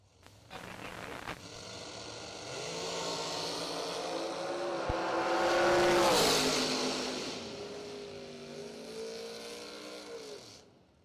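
Door cars at a drag racing event, engines revving and roaring under load, building to a loud peak mid-way before easing off, with a sharp crack near the start.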